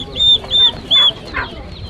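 A turkey at a livestock market gives three short, bright calls in quick succession, followed by a couple of softer, breathier squawks, heard close up with no one talking.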